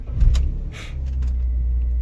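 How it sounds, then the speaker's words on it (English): A 2006 BMW E53 X5 3.0i cranks briefly and catches, then settles into a steady low idle close by, with a short whir and a click early on. "start the car."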